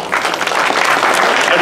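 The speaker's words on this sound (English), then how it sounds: "please give them a big round of applause" A gathered audience at a Sri Lakshmi Narayan Kalyanam wedding ceremony applauds the performers, giving steady, close clapping from many hands with some voices mixed in.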